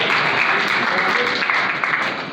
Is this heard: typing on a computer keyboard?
no